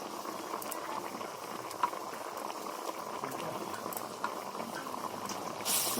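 Rolled gourd-leaf fritters simmering in a potato curry, with a soft, steady bubbling and occasional faint pops throughout, quiet and close with no talking.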